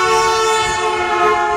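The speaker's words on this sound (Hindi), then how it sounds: "जब एक हॉर्न बजाती ट्रेन हमारी तरफ आती है तो हॉर्न की आवाज ऊंची होती जाती है" A loud, sustained train horn blares close by in one continuous tonal chord, with the rumble of the train underneath.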